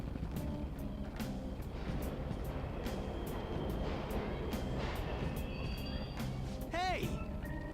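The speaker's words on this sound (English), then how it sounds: "The trains are totally running!" Subway trains run through the Mementos tunnels in the video game Persona 5. A steady, loud rumble carries rhythmic clacks, and a brief rising metallic squeal comes near the end.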